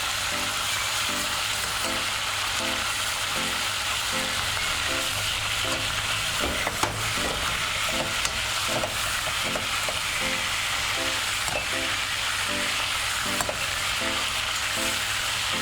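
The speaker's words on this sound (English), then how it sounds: "It is important that you fry the chicken golden like this." Chicken pieces frying golden in a pan of hot oil for okra stew, a steady close sizzle and crackle running continuously with faint periodic bubbling pops underneath.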